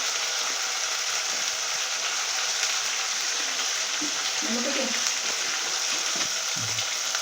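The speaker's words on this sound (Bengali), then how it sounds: "টমেটোটাকে এইভাবে ভাজতে ভাজতে তারপরে অন্য মশলাগুলোও দেব" Tomatoes fry in a hot pan with spices for festive puja khichuri, giving a steady, dense sizzle that continues throughout, close by, with faint stirring noises underneath.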